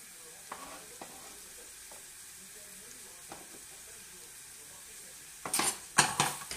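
Salmon and finely cut vegetables get stirred in a pan, soft faint scraping at first under a low background, then a louder burst of utensil scraping and sizzle near the end.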